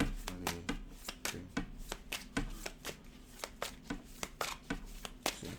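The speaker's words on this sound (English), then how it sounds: "One more shuffle." Tarot cards shuffled by hand, a rapid run of sharp riffling snaps and soft flutters repeating in quick bursts, close and crisp with no talking.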